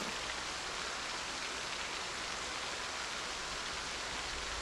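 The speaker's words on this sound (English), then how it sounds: "This rain is killing me right now because I can't hear anything." Rain falls steadily in the zombie survival video game Project Zomboid, a constant dense hiss with no gaps and no voice.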